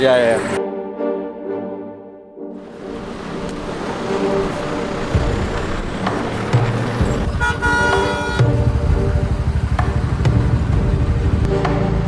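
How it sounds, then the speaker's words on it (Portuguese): Dense traffic on a Himalayan mountain road, with a sustained tonal car horn toot at the start and more honking later over a steady roar of engines, close and loud, with people talking throughout. "Não, está mesmo bué de trânsito deste lado."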